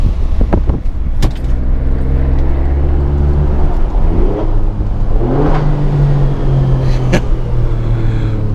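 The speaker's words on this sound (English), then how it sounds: "I'm gonna accelerate with the windows down because it is just extremely loud from the outside." The engine of a 2018 Alfa Romeo Stelvio Quadrifoglio SUV roars up close, revving hard and climbing in pitch through gear changes, loud and aggressive with rumbling exhaust.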